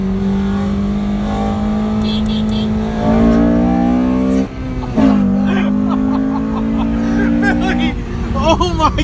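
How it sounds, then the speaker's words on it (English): A Honda Civic Si racing on the street holds a loud, steady engine drone, then its revs jump sharply twice as it downshifts, with voices and crowd chatter faintly underneath. "He was looking over, he just heard you downshift"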